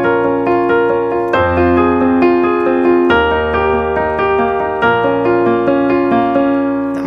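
Piano octaves from the pre-chorus of John Legend's All of Me, played as steady repeated chords with a deep bass octave that shifts at several points, loud and close with no talking.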